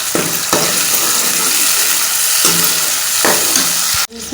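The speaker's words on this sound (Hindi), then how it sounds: "2 बारीक कटे हुए टमाटर डाल देंगे और इसको मिक्स करेंगे।" Finely chopped tomatoes are stirred into a frying pan for a village-style green beans dish, making a loud, continuous sizzle broken by a few scraping spoon strokes. The sound cuts off abruptly near the end.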